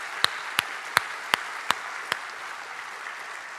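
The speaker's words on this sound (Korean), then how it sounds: "우리 박수로 더불어 축하해드리면 어떻겠습니까?" Scattered, slow claps from a church congregation at a Sunday evening service: about six distinct claps over two seconds, then a quiet room.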